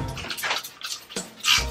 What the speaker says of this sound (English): I'm going to just spray it down and wipe it down with a microfiber cloth.